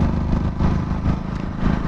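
Close, steady engine drone of a Hero Splendor Plus BS6 motorcycle, running continuously and fairly loud without talk.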